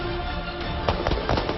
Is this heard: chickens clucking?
no